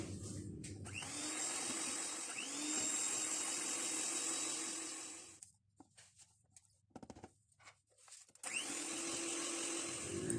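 An electric hand beater whirs steadily through butter, sugar and cocoa icing, a loud continuous motor drone that cuts out midway, leaving a few seconds of scattered light clatter before it starts up again.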